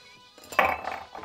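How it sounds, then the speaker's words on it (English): An ice cube clinks into a cocktail glass with one bright knock followed by a short rattle, close and clear in a quiet room with no talking. "I want an ice cube for this."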